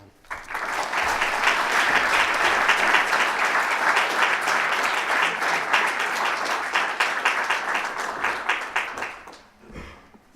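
Sustained audience applause fills a college hall at an International Women's Day keynote, dense and loud for about nine seconds before tapering off, welcoming a speaker to the stage.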